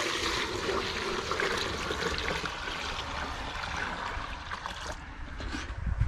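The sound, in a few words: water pouring into buckets of fresh chicken manure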